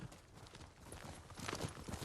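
Horse hooves clip-clop steadily in Ghost of Tsushima, a feudal Japan video game, with a continuous rhythmic patter of fairly close steps over a busy background of game ambience.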